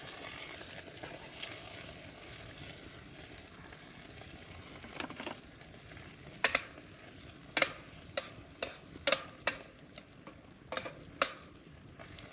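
Campfire chili eggs fry in a hot pan with a faint, steady sizzle, broken by a scattering of sharp clicks and taps.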